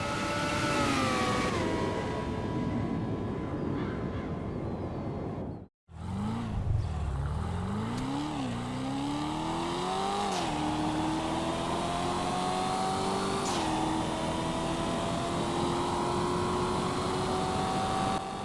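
A Formula 1 car engine in GTA Online revs loud and high-pitched, sweeping up through the gears with a brief cut to near silence partway, then climbing again in a continuous close whine.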